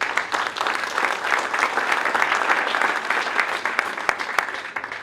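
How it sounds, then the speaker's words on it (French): Sustained audience applause fills a conference hall at a chamber of commerce colloquium, a dense steady clapping from a sizable crowd that continues evenly throughout with a few sharper individual claps standing out. "On l'applaudit plus que tout à l'heure."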